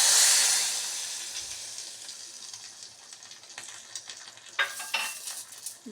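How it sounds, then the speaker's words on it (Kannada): Hot oil tempering (oggarane) poured into tomato rasam, opening with a loud hissing sizzle that fades to a quieter crackle, followed by a few clinks and stirring scrapes of a spoon near the end. "ಸಾರಿಗೆ ಹಾಕೋಣ ಒಗ್ಗರಣೆ."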